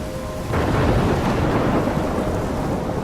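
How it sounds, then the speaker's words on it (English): Heavy thunderstorm in the Life is Strange video game: a loud roll of thunder breaks in after a quiet half second over steady pouring rain, then rumbles on continuously beneath the downpour. "I'm trapped in a storm?"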